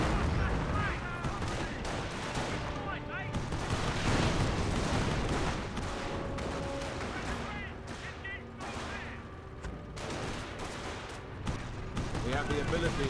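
Mortar fire and other artillery in a Company of Heroes battle between Panzer Elite and British forces, with repeated thuds and bursts over continuous rumbling gunfire while a commentator talks throughout.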